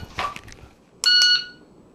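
Electronic beeps from a shot timer used in defensive shooting practice: a shorter tone, a pause, then a louder, sustained beep, heard close and clear with no gunfire.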